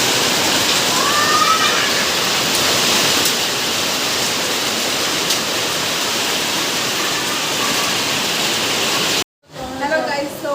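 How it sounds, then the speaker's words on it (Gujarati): A sudden, heavy downpour roars steadily as a loud, dense hiss of rain that holds at the same level, then cuts off abruptly near the end before a brief, fainter stretch of rain returns. "ત્યારે ધોધમાર વરસાદ ચાલુ થઈ ગયો છે અચાનક જ."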